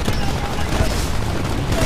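Gunfire in the shooter game Titanfall, a short loud barrage of rapid shots and booms that runs without a break.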